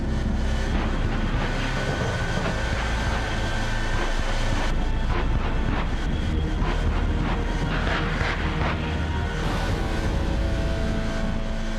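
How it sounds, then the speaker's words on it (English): A truck powered by three Pratt & Whitney J48 jet engines gives a loud, continuous jet-engine roar with a steady rumble and hiss, sustained throughout with slight surges in intensity. "This truck is powered by 3 Pratt & Whitney J48 jet engines"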